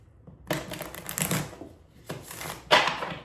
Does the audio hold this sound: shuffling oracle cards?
yes